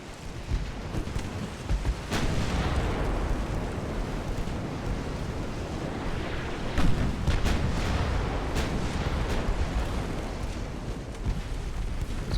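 Naval gunfire from a warship's 2-inch broadside in the Ultimate Admiral: Dreadnaughts game, with an opening heavy boom followed by a string of rumbling, crackling shots and blasts over a continuous roar and no talking.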